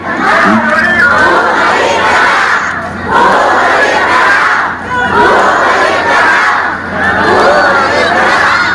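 A large crowd at a political caucus shouts and cheers in loud, continuous waves, surging and dipping every few seconds with no clear single voice rising above the roar.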